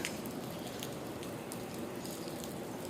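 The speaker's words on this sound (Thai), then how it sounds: "นี่ฝนตกแล้ว" Steady rain falling at night outdoors near water where fishing lines are set, a dense even patter of drops continuing throughout with no voices.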